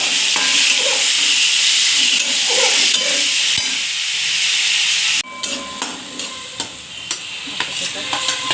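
Chopped onions frying in a pan, a steady loud sizzle with hissing steam, joined partway through by sharp scrapes and clinks of a spoon stirring against the pan; no talking.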